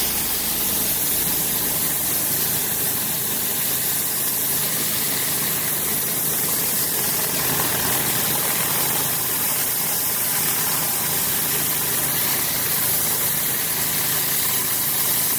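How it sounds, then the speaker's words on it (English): A gas pressure washer with a surface cleaner works a driveway, a steady loud engine drone with broad spraying hiss holding constant throughout, no pauses. "cleaning the driveway with the new machine. Don't go so fast, Matt. Yeah. Got the new surface cleaner."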